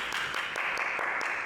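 A crowd claps steadily for a participant stepping forward on a dating-game reaction show, a dense, even patter of many hands with no voices over it.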